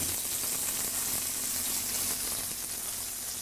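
Rubbed meat sears in a Nordic Ware cast pan on a stovetop, giving a constant close hissing sizzle with faint crackles and no pauses, steady and moderately loud with no voices.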